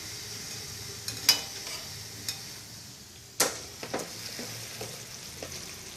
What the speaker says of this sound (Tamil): இப்போ நம்ம பாதுஷாவை பொரிச்சு எடுக்கலாம்.